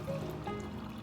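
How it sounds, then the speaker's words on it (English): Water poured into a container while homemade aloe vera shampoo is being mixed, a soft steady trickle heard close up over a low background hum. "We'll put a little bit of water"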